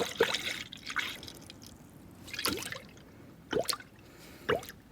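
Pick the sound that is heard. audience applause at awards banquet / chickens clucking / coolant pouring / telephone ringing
coolant pouring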